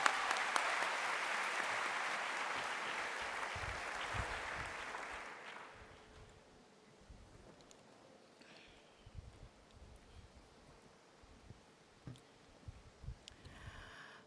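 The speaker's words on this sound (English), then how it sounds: "A big round of applause," A university welcome ceremony audience claps in a broad, loud round of applause for about six seconds, then it fades to a quiet hall with scattered shuffles and knocks.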